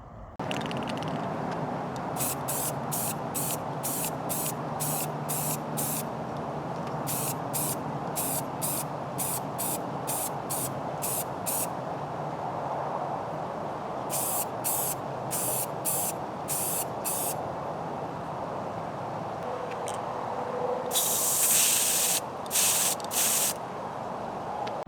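Behr spray paint hisses steadily from a can as a third coat goes onto metal, with repeated short bursts of spraying, close and fairly loud, and no talking.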